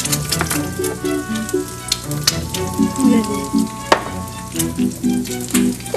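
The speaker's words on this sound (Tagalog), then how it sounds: "Alam mo, Chicks, sunny side up na lang lutuin mo." Eggs fry sunny side up in a pan, a loud, close, continuous sizzle with crackling pops and the occasional scrape of a utensil against the pan.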